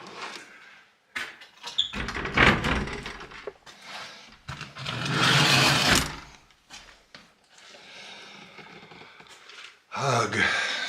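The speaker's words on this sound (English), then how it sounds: "We're gonna go ahead and close this door." A door being closed in a grimy, creepy basement space during a camping outing, heard as a few sharp knocks and scraping shuffles with rustling movement and a loud broadband burst near the middle.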